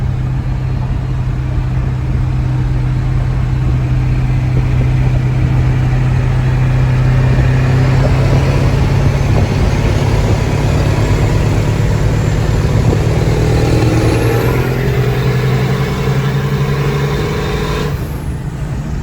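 A 600 HP 7.3 Powerstroke diesel truck accelerating hard in a pull on the road, a loud steady engine drone rising in pitch over many seconds with turbo whine, heard from inside the cab.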